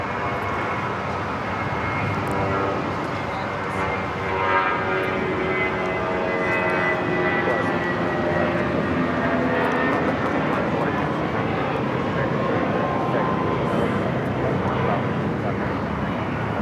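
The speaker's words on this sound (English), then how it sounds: "1719 taking off to Guadalajara on the A320." A Volaris Airbus A320 takes off from LAX toward Guadalajara, its engines giving a loud, steady roar that holds for the whole stretch, with a voice talking over it.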